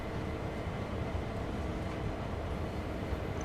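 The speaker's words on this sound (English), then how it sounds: "Train's slowly snaking its way round into the yard here." A train in the Train Sim World 2 game on the Sand Patch Grade route rumbles steadily as it slowly curves into a rail yard, a continuous low, even drone with no talk over it.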